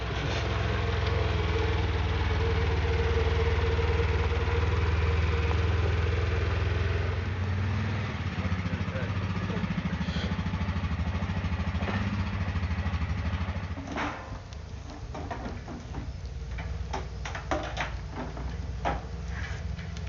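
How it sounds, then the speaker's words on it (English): A side-by-side vehicle engine drones loudly and steadily, then drops to a lower rattling chug with irregular clattering as it slows under engine braking. "Sounds like his engine brake's doing quite a bit"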